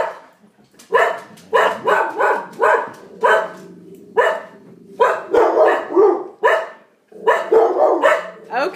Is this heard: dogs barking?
yes